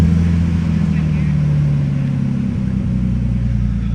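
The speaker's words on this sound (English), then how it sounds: "Go ahead, start the car up" A Nissan Skyline's engine is running steadily close by, a loud low rumble with a sustained hum and a slight dip in pitch partway through, with talk over it.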